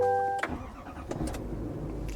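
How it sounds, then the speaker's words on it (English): The diesel engine of a 2025 GMC Sierra HD AT4X AEV Edition pickup cranks and catches about halfway into the clip, then settles into a low, steady rumble close by. "You can hear that diesel."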